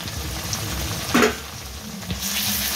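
Chilli, garlic and ginger paste sizzles as it fries in onion-tomato masala, a steady hiss with a short louder spit as something is added or stirred in the pan.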